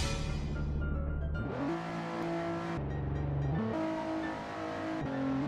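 The engine of an imported Toyota Fortuner SRZ V6 strains on a hill climb in a Roblox driving game, a loud steady drone that rises in pitch with each gear, drops at the shifts and climbs again.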